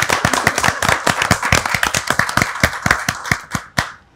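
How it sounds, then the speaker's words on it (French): Applause from a small quiz-show audience for contestants, distinct individual claps in a brisk, fairly regular rhythm, close and crisp, tapering off at the end. "On peut les applaudir"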